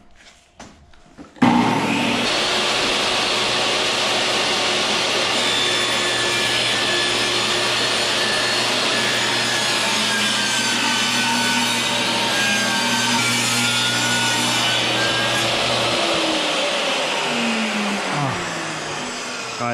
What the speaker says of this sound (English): I love that table saw